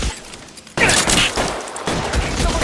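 Gunfire in the L.A. Noire video game bursts out abruptly after a quiet moment: loud, close volleys of shots crackle and echo in a dense fusillade, with a second burst following, and no talk over it.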